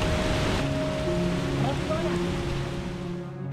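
A rushing river near a waterfall on the Jalisco coast, close to Quimixto, gives a steady, loud broadband roar of water, with a faint low hum running beneath it.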